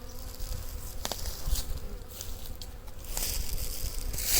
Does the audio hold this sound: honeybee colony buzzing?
yes